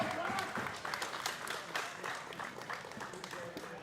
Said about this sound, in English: Getting applause from the Throwbacks who are on hand here to watch this game